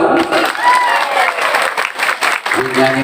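Audience at a stage event in Bumiayu applauding: dense, steady clapping from a crowd, loud and close, with a voice talking or singing over it at the start and end.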